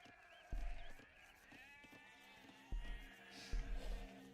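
Sheep bleating in the Age of Empires II real-time strategy game, three short separate bleats with gaps between them over quiet game background sound.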